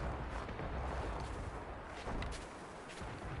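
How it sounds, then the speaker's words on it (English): Cannon fire in the video game Assassin's Creed Rogue: a dense, rumbling wash of booms and blasts rolling on for several seconds, fairly close, with no talk over it. "Cannon fire going off nearby by the sounds of it."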